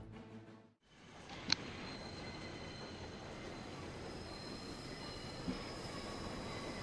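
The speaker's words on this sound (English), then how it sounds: "That's a train, not a tower." A train rumbles along in the Final Fantasy XIV Endwalker game world, a continuous rolling rail drone with faint wheel squeal and a couple of brief metallic clanks, fairly distant and alone.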